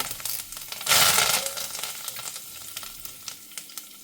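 Fenugreek seeds and curry leaves hitting hot coconut oil, a sudden loud burst of crackling sizzle that settles into lighter popping and spatter, close and alone.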